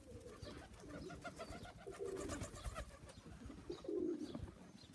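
Pigeons coo steadily and fairly close, several soft repeated calls overlapping through the whole stretch with no talking.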